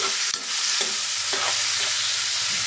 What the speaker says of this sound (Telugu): ఇప్పుడు ఇదే ఆయిల్లో మనం పచ్చిమిర్చి చిన్నగా కట్ చేసుకున్న ఉల్లిపాయ వేసుకున్నామండి ఇవి మనకి కొంచెం బాగా ఫ్రై అవ్వాలి